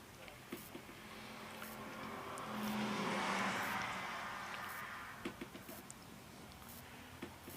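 Ford Fiesta with a 1-litre 3-cylinder turbo engine in fairly standard trim runs a hill climb course, its engine rising from the distance to a moderate swell as it passes and then fading, with scattered patter and faint crowd sounds.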